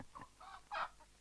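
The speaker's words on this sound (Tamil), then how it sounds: "என்ன கோழியெல்லாம் வாங்கிட்டு வந்திருக்காரு?" Chickens cluck in a short burst of a few close, hoarse calls with no talk over them, heard in a Tamil village house setting.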